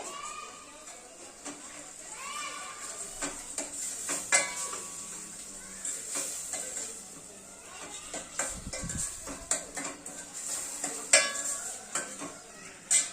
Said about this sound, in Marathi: अद्रक लसूणची पेस्ट घालणार आहे यामध्ये ती कांद्यासोबतच छान परतणार आहे